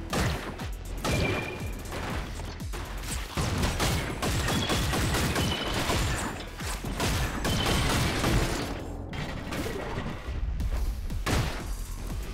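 Rapid gunfire from a video game shooter, Orbital Bullet, rattling almost without pause through the whole stretch, loud and dense with crashes and mechanical clatter layered over it.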